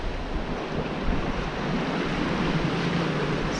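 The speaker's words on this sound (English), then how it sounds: "The sea state is kicking up a nice few waves off them." Sea waves break and wash off sandbanks south of Arklow near Kilmore Point, heard from a sailing boat at sea, a continuous surging wash mixed with wind buffeting the microphone.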